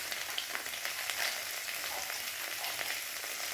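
Dry chilli powder and turmeric frying in a pan for a drumstick and potato sabji, giving a steady, close hiss and crackle of sizzling with no voices.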